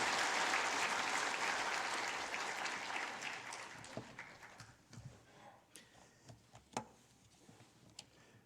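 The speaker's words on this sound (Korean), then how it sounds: "우리 박수로 환영하겠습니다." Church congregation applauds to welcome a pastor to the front, a dense clapping that swells loud at first and then thins out into scattered, separate claps as it dies away.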